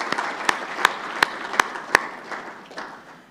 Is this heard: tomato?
no